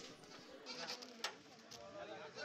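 Goats bleat at a rainy Kerala goat market where large bucks and kids are for sale, a few short faint cries rising over soft background noise.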